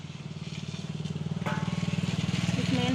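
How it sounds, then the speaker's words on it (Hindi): A sewing machine stitching blouse fabric runs with a rapid, even mechanical chatter that picks up speed partway through. It is close and steady, with a faint voice at times. "और अब मैं आप लोगों को सिलाई दिखाऊंगी।"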